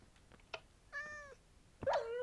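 A cat meows in Minecraft: a few soft clicks, then two short, clear meows about a second apart, close and distinct with no talking.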